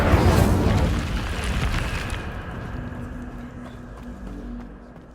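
An Incendio fire spell is cast in the video game Hogwarts Legacy, bursting out as a loud, roaring whoosh. It swells at once and then slowly dies away into a rumbling hiss with no talking.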